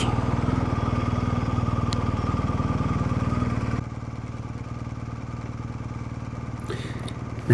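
BMW R1250GS Rallye TE motorcycle riding: a steady, loud engine drone with wind rumble continues throughout, dropping slightly in level midway, with no talking.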